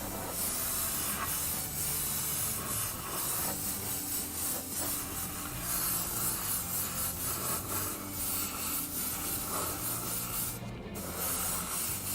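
An airbrush hisses steadily while spraying candy pearl paint onto an RC car body, a continuous close airy spray with slight fluctuations and a brief sharper burst near the end.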